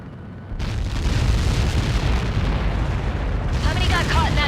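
Huge blast from Helios projectiles striking in the Ace Combat 7: Skies Unknown flight game, a sudden loud roar that erupts and keeps rumbling continuously, with crackling bursts near the end.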